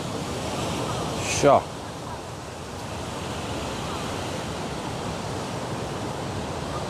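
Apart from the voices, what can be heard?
ocean waves on the beach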